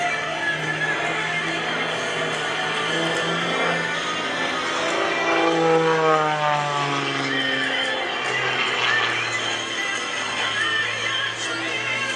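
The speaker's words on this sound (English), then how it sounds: "Gets the airplane rolling." A propeller plane's engine drones steadily, its pitch rising and falling as it swoops and rolls overhead at a moderate distance during an aerobatic display at an air show.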